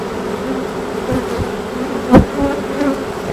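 Honeybees buzz around an active hive during a beekeeping inspection with honey supers on, a steady close insect drone throughout, broken by a single sharper thump about two-thirds of the way in.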